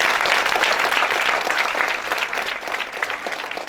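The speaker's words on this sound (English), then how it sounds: "Let's give them a round of applause." An audience gives a sustained round of applause for two teams at a teachers' debate grand finale at an international school, a dense wash of clapping that tapers slightly toward the end.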